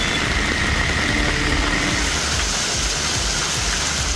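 Heavy rain driven by wind pours down over flooded roads as vehicles pass, a dense, loud and unbroken hiss with a low engine rumble running underneath throughout.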